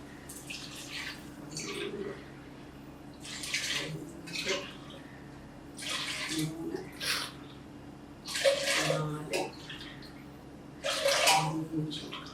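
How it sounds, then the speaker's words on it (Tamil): Coconut milk and water are poured by the tumbler into a pot for coconut milk rice, heard as a series of close splashing, gurgling pours separated by short pauses. "இதில் நான் இப்போ கலந்து 1 டம்ளர் அரிசிக்கு 2 டம்ளர் தண்ணி அளந்து ஊற்ற போகிறேன்."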